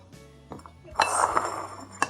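A Korean spoon strikes and scrapes against a dish of persimmon and overnight oats, with a cluster of bright clinks around the middle and one sharp clink near the end, close and clear, with no speech.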